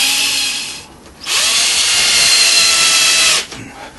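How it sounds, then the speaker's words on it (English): A power drill bores into plum wood during a salmon carving, using a bit sized to match a dowel rod: a loud, steady high whine that pauses briefly, resumes, then tapers off, with no talking. "Got a drill bit the same size as the dowel rod."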